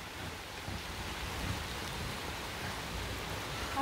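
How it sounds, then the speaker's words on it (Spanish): Steady rain falls all around, a soft broad hiss with a faint low rumble underneath and no talking. "como está lloviendo, está incómodo"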